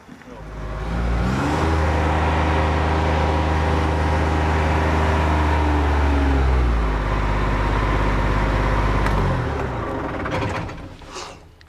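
Diesel engine cranks, starts and runs steadily at a loud, close idle after its tank is refilled from a yellow fuel can, then shuts down near the end.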